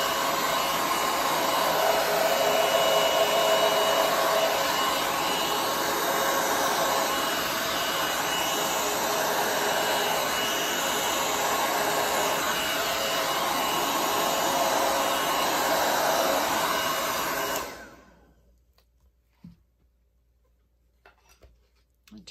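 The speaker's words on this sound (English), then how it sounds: "I'm going to have my blow dryer on high and cool" A hair dryer on high and cool settings roars steadily at full power for a long stretch, then cuts off abruptly, leaving near silence with a few faint clicks.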